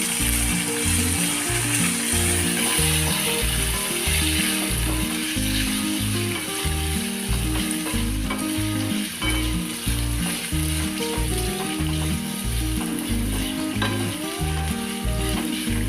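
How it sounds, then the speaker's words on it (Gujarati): Potatoes frying in oil with asafoetida and coriander give a loud, steady sizzle, joined by a regular rhythmic scraping of stirring throughout. "બટેકાને આપણે તેલમાં ચડવા દેશું સારી રીતે એટલે ચડી જાય"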